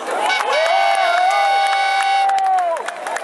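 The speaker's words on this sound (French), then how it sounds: "Est-ce qu'on peut applaudir le peuple africain qui est discipliné?" A crowd at a Pan-African march in 2013 cheers in a loud, sustained collective shout, a long held voiced cheer with some clapping underneath, lasting about three seconds before trailing off.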